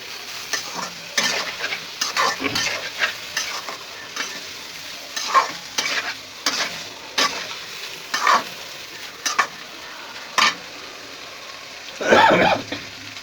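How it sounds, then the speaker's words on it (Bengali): Vegetables being sautéed in a pan, a steady close sizzle broken by repeated rhythmic scrapes of a spatula stirring them, with no voices. "এখন আমি কষা নিচ্ছি তরকারিগুলা"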